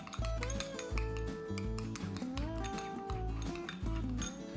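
Rhythmic clinking and scraping of a utensil whisking egg yolks with salt, pepper, green chilli and coriander in a bowl, brisk repeated strokes close up with no talking.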